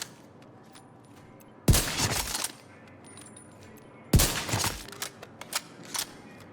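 Two loud, sharp sniper rifle shots from a one-shot PvP build in a video game crack a few seconds apart, each followed by a short rolling echo, over a quiet background with faint scattered clicks.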